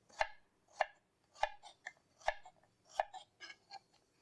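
A knife slices peeled fruit on a cutting board for spring rolls (lumpia), giving about seven crisp, evenly spaced cuts close to the listener, the last few softer and quicker.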